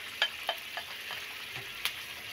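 Tomato puree cooking in a pan for egg masala, a steady close sizzle broken by a few sharp spoon clacks as it is stirred.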